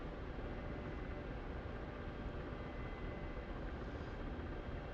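Steady, dense rotor and turbine drone of a Ka-50 helicopter in flight in the DCS World simulator, a constant loud wash with no breaks and no voices.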